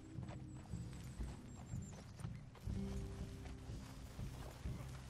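A horse in Red Dead Redemption 2 clip-clops along at a steady hoofbeat rhythm over low rumbling game ambience, with a brief whinny-like high call near the start.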